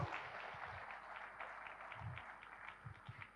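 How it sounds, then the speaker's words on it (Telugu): A crowd applauds at a youth event held by PYMA, with sustained, fairly faint and distant clapping running steadily throughout. "పైమాకి మరొక్కసారి గట్టిగా చప్పట్లు కొడదాము."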